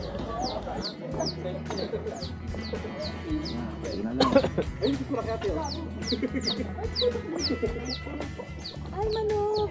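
A chicken clucks repeatedly in short, steady bursts outdoors on a day hike up Mt. Ulap in the Philippines, close and fairly loud over low background noise, with people talking throughout.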